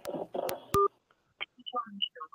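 Telephone keypad tone pressed to accept an incoming call, a single loud electronic beep following brief talk, then quiet fragments of speech.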